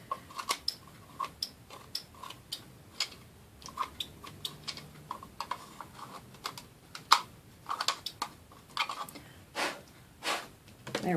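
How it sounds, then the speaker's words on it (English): Close, crisp snips of scissors trimming frayed jute twine wrapped on a Dollar Tree DIY fall lantern, a series of sharp irregular clicks and cuts with short gaps between them and no talking. "I just take my scissors in here and just like give it a little haircut"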